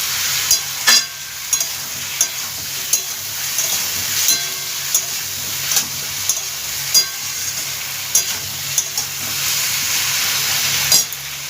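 Chopped tomatoes sizzle in a hot pan for a thin rohu carp curry while a utensil stirs them, giving a constant frying hiss broken by regular sharp scraping clicks against the pan.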